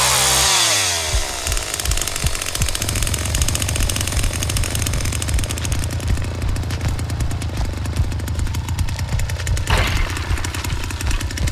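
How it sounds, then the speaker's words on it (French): Chainsaw in the Texas Chain Saw Massacre video game on Xbox Series, pulled into life and then running loud and continuous, its buzzing engine revving and wavering for the rest of the stretch. "On va le remettre en marche là, la tronçonneuse."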